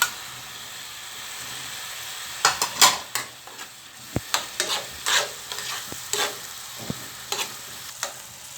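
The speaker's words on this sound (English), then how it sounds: "now we'll add a tablespoon of tomato paste" Tomato paste being stirred into a meatball sauce frying in a pot: a quiet sizzle under a run of close, irregular spoon scrapes and clinks against the pan, no voices.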